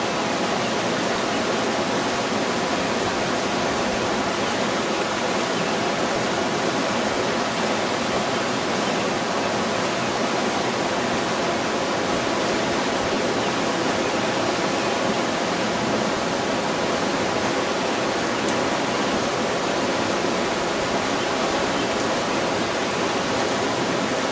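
Fast, high river water rushing steadily in Cache Creek, a dense, loud, unbroken roar of churning current and wave action, close by with no talk.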